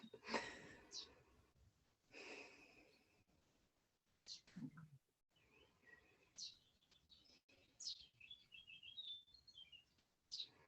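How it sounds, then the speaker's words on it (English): Small birds chirp and tweet outdoors in short, high bursts scattered through the background, fairly faint, while people speak quietly over an online call. "Oh, I hear the birds."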